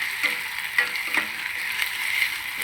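Green chillies and onions fry in hot tempering oil for a curd-based dish, giving a steady close sizzle with a few soft stirring scrapes and clicks and no voices.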